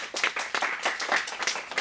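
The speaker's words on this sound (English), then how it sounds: "So can we all just give Liam a round of applause?" An indoor audience at a Hong Kong design thinking event gives a round of applause, a dense wash of clapping from many hands that swells and ebbs in uneven pulses with no speech over it.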